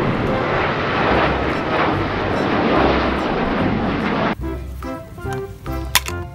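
Airplane engine roar, a loud steady broadband drone that holds for about four seconds before cutting abruptly to quieter, tonal sounds.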